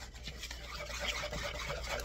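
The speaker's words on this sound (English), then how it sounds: "we're going to whisk that all up until we get the consistency that we want" A whisk stirring heavy cream into powdered sugar in a bowl, a continuous soft scraping and swishing rhythm, close and steady.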